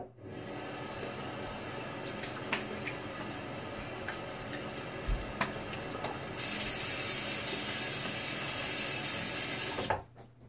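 A sink faucet runs steadily while a razor is rinsed during a wet shave, the water stream getting louder partway through before shutting off abruptly near the end, with faint clinks in between.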